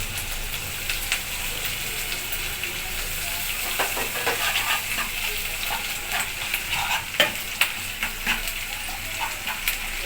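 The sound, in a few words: ginger garlic paste frying with onions, stirred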